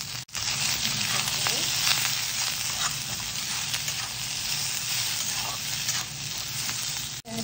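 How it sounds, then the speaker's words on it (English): Mustard seeds and jeera sizzle and crackle in hot oil in a pan, a steady, close frying hiss that runs throughout with no talk. "I'm adding some seasoning, mustard and jeera"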